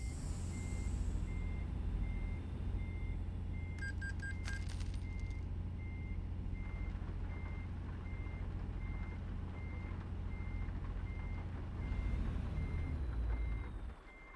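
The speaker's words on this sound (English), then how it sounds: "So if we want to actually throw in reverse" American Truck Simulator truck in reverse, with an evenly spaced electronic backup beeper pulsing over a loud low diesel engine rumble and a brief hiss partway through.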